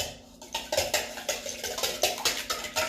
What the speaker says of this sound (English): And then we're gonna whisk this together.